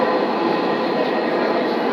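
A metro rail train pulling away at speed, heard as a loud, continuous rushing roar with no break from start to finish.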